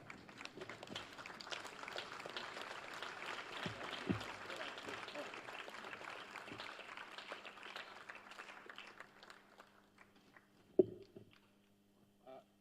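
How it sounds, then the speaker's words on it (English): An audience claps to welcome chief guest Dr. Miguna, a busy spread of hands that fades over about ten seconds, followed by a few thumps and handling noises in near quiet. "we can start and then clap and welcome our chief guest, Dr. Miguna"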